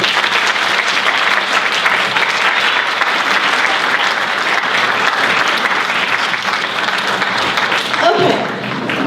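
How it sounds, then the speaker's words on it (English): Sustained clapping from honor students applauding their parents at a National Honor Society induction ceremony, a thick, even wash of applause holding steady before tapering near the end. "I would like the honor students to really clap for their parents who are their main support system."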